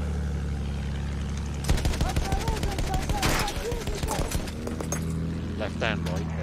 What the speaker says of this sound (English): they're shooting from very, very far away